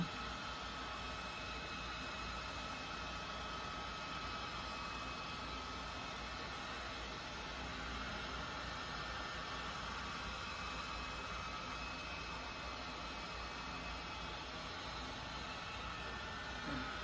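A heat gun blows hot air onto old plastic, making a steady, even hiss that carries on unbroken and fairly faint from start to finish.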